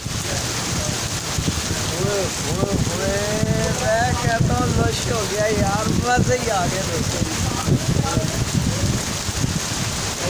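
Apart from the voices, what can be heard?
heavy rain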